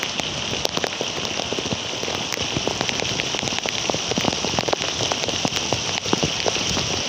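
Steady heavy rain pouring down in Dhaka city, a dense continuous hiss with countless drops pattering on a hard surface close by, no voices.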